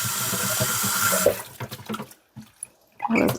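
Water runs steadily from a tap in a home while a mattress is being cleaned, a loud continuous rush that stops partway through, leaving a few drips and faint handling noises before a brief final gush.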